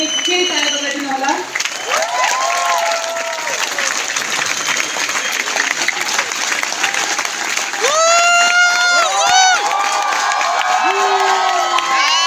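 An audience at a company welcome event claps and cheers steadily, with shouts and whoops rising above the applause, while a voice speaks over it.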